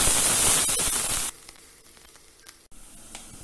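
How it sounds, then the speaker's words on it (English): Onions sizzling in a pan with curry leaves for a stuffed Indian squash dish, a loud hissing crackle that drops abruptly to a quieter simmering fizz partway through. "Onions. Fry till they are lightly colored."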